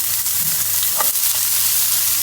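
Onion and bitter gourd fry in a pan with a steady, close hiss of sizzling oil and a faint scrape of stirring partway through, no voices.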